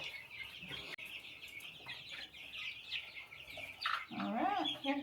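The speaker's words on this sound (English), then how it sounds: "Can I get my chicken?" Chickens cluck and call close by, including a young hen with a short comb, with small bursts of clucking and a louder rising squawk near the end over steady background noise.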